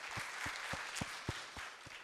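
Audience applause at a spiritual-education talk session, a steady wash of clapping from a seated crowd running throughout, moderately loud and without speech on top.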